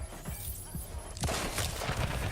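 Grenade blasts and heavy combat din in The Division 2, dull thumps followed by a louder crashing burst with scattered debris and clatter, fairly faint and muffled, without speech.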